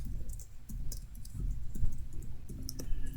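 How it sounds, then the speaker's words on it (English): Keys on a computer keyboard are typed in short, sparse clusters of light clicks at close range, with a low room hum underneath and no talking. "I can type my district name in here."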